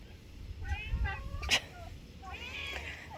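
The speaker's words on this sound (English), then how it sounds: "Oh my goodness, cat." A cat meows several times nearby, short rising and falling cries with a faint background hum and a sharp knock in the middle.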